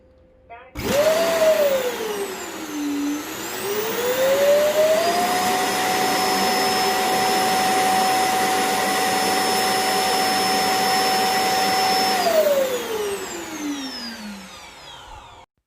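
A Honiture Q6 robot vacuum's self-emptying bin gives a loud motorized suction roar that starts abruptly, its pitch dipping and rising before holding a steady whine for several seconds, then winding down at the end.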